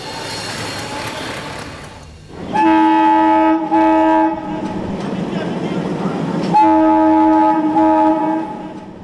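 A train blares its horn in long, loud blasts as it rolls past, the horn cutting out and returning over a steady rumble and clatter of wheels, with a faint voice underneath.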